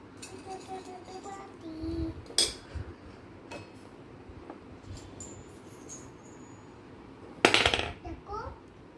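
Small steel utensils from a toy kitchen set clink and clatter in scattered, sharp bursts, with the loudest clash near the end. The sounds are fairly faint and close, mixed in with a voice and someone talking.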